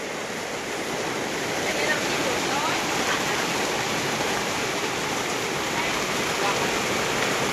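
Heavy rain pours down during a storm in Surin province, Thailand, a loud, constant wash of hiss that fills the scene without pause.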